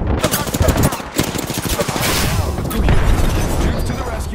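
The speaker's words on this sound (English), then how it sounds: "We've got an airstrike coming in." An airstrike and gunfire in the Apex Legends video game make a loud, continuous barrage of rapid shots and heavy booms, close and dense throughout.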